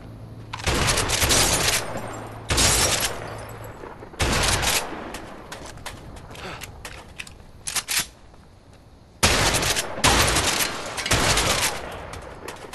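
Repeated gunfire during target practice in the A Way Out video game, loud bursts of rapid shots and fusillades in clusters with brief pauses between volleys.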